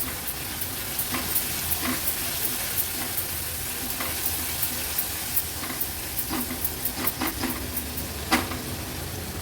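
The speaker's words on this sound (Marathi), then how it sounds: "वाटण पण तेलामध्ये छान आपल्याला परतून घ्यायचे" Ground masala paste sizzles and fries in oil for a guar bean curry, with steady hiss and scattered crackles plus spoon-stirring scrapes throughout, close and moderately loud with no voices.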